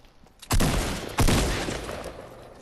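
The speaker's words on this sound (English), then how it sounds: "How dare you shoot at me?" Gunfire in Fortnite Battle Royale rings out as two loud, close shots about 0.7 s apart, each leaving a short echoing tail and a lingering rumble. No one speaks.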